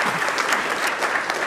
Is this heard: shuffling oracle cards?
no